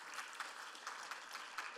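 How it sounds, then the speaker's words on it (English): An audience claps steadily for a panel at a forum, a dense patter of hands heard at a moderate distance, with no voices over it. "Let's have a round of applause for this panel"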